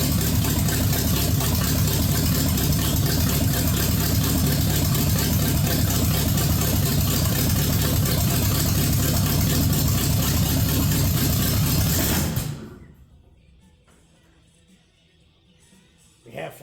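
Chevy 305 small-block V8 in a Jeep CJ7, running for the first time in years with untimed ignition, roars loud and steady close by for about twelve seconds, then cuts off abruptly into near silence.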